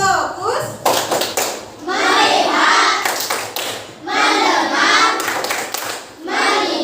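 A classroom of schoolchildren performs a rhythmic focus clap, crisp hand claps in repeated bursts alternating with the children chanting in unison.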